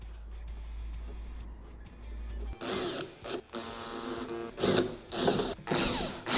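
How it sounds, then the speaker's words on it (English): A power driver sets screws through washers to fasten strike brackets inside a motorcycle saddlebag, several short bursts of whirring and ratcheting close by after a quiet hum. "Now we're going to install the saddlebag strike bracket from the inside of the bag using 4 screw and washers on each bracket."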